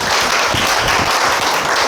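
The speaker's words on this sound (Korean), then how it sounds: "큰 박수 부탁드리겠습니다" Audience applause at a beauty-industry policy meeting and appointment ceremony, a steady, dense wash of clapping filling the room without pause, with no voices on top.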